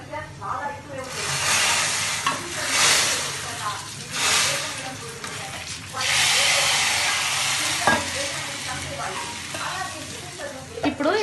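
Curry leaves hit hot oil in a tempering for a Telugu kandi kattu, sending up a loud, steady crackling sizzle that swells and eases in waves, close and continuous with no voice over it.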